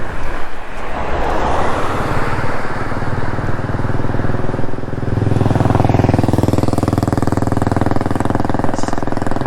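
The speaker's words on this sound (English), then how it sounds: "Old Velocette motorcycle." A loud old Velocette motorcycle engine approaches and passes close by on an estuary trail, its rumble rising to a deep, steady throb.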